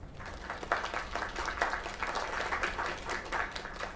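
A video game crowd in Kleinstädter applauds steadily for several seconds, the clapping dense but slightly muffled and moderately loud.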